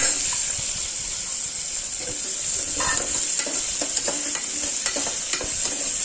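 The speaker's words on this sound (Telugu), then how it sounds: "onions curry leaves green chilli ginger సన్నగా కట్ జింజర్ అన్నీ వేసి వేయించుకోవాలి" Onions, curry leaves, green chilli and ginger frying for wheat rava upma, a steady close sizzle with intermittent scrapes and clinks of stirring in the pan.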